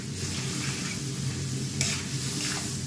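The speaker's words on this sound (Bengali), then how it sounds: "ভালো করে মিক্স করে নিই যাতে সব সবজির গায়ে লেগে যায়।" Vegetables are stirred in a hot cooking pan, a steady close sizzle with scraping strokes and a brief louder clatter partway through.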